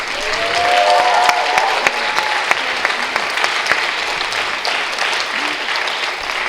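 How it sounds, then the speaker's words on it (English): An audience applauds a dancer at her Bharatanatyam Arangetram, steady full applause lasting several seconds with scattered sharper claps, a faint voice briefly heard beneath. "Give her a big hand of applause."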